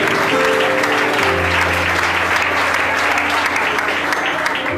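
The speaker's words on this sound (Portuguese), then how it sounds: "Aplaude e glorifica isso aí." A large church congregation claps loudly and continuously, a dense wash of applause with a low voice or tone sounding underneath.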